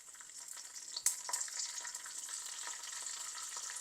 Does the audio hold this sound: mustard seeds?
yes